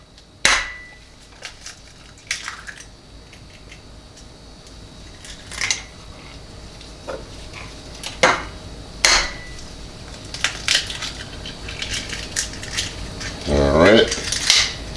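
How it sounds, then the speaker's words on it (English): Eggs are cracked one by one against a bowl for scrambled eggs, giving sharp, separate knocks and clicks at irregular intervals, close and fairly loud, with light handling noise between them and no speech. "Going to get my eggs cracked in the bowl here."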